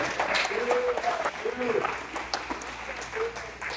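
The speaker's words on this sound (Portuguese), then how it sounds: "Vamos aplaudir ele mais uma vez, igreja?" A church congregation applauds at a Portuguese-language service, with moderate scattered clapping from the room under a voice speaking across the brief stretch.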